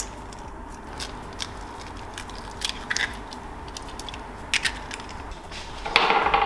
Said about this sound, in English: In a large bowl, I'm going to whisk in my eggs.